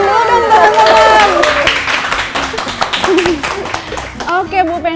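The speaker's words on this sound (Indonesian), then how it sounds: "Tepuk tangan dulu dong teman-teman." An audience in an Indonesian cooking studio claps in a burst of applause that fades near the end, mixed with crowd chatter and voices.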